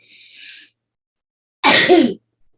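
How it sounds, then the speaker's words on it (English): A short breathy inhale is followed by one loud, sharp sneeze up close, then silence. "I feel like I'm going to sneeze in a minute"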